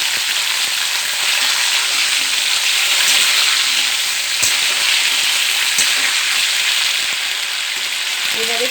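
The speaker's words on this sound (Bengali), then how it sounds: "এবার আমি পটলটা ছেড়ে দিলাম।" Pointed gourd pieces sizzle steadily in hot spiced oil, a dense, loud frying hiss that holds from start to finish with a few faint clicks and no talking.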